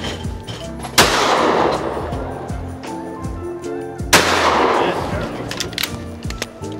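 Two loud shotgun blasts about three seconds apart ring out at a clay target shoot on Lanai, each leaving a long echoing decay, with faint voices in the background.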